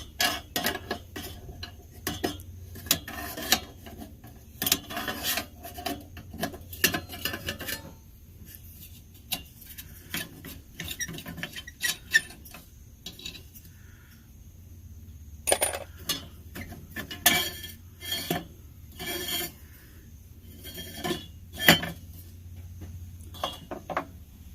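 Small metal parts clink and tick repeatedly as a nut is worked off the burner cage of a Kamplite lantern, with irregular close taps and rattles.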